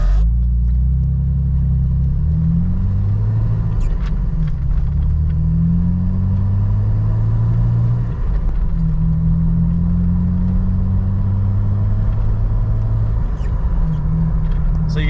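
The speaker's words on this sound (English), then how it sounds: "We're at a stoplight now, so we'll see if you can get if the sound goes through whenever I" A Jeep TJ fitted with a custom exhaust pulls away from a stoplight, giving a deep, rumbling low-pitched drone that swells in waves as it accelerates, heard from inside the vehicle.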